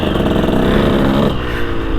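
A new motocross bike engine runs at a steady high pitch and then eases off, loud and close throughout the two seconds, with no voices.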